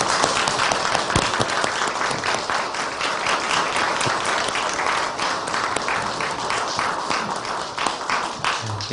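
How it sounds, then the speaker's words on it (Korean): A Korean church congregation applauds its choir after a Sunday anthem, dense even clapping filling the room loudly and steadily throughout. "우리 성가대 경례 박수 할까요?"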